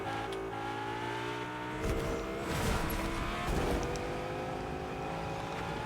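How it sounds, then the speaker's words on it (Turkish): A car in Fortnite drives off onto water, its engine droning steadily before a burst of splashing, churning noise as it hits the surface, close and loud with no talk. "Araba suyun üstüne gidiyor."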